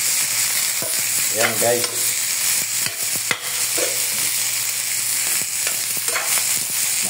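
String beans and squash sauté in a pan for ginataang kalabasa with crab, giving a steady sizzle with close spatula scrapes and stirring throughout; a voice speaks briefly over the frying.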